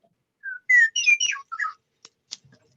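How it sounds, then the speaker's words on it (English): A bird singing alone in quiet surroundings, a clear close series of whistled, warbling phrases followed by a few short sharp chirps that fade out. "I love this bird sound"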